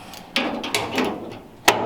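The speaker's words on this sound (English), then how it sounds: "I'm gonna close the door here so you guys can see." The door of a 1929 Ford Model A roadster pickup is closed, with a few close metallic clicks and latch clunks and a sharp final snap, heard alone.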